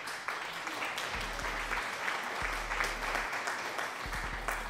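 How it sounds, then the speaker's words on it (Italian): Applause in a Fall Guys game session, a wash of dense clapping-like noise running throughout, with low thumps recurring underneath at intervals. "Un grande applauso."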